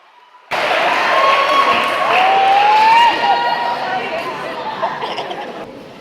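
Audience at a sermon breaks into loud clapping and cheering that starts abruptly and holds for several seconds, with crowd chatter and shouts mixed in before it begins to thin.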